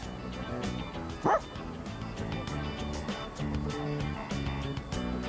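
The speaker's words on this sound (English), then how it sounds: "It's the stray dog that chased the boy around a little while ago." A stray dog in Persona 3 Reload gives a short rising yelp or whimper over looping game music and ambient sound, a single brief call standing out near the start.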